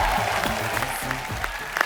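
Studio audience applause on The Kapil Sharma Show as wrestlers Geeta and Babita Phogat are welcomed, a loud, dense burst of clapping from a packed crowd with a low musical tone underneath.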